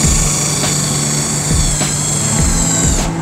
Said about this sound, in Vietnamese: bạn khoan một tay cũng được.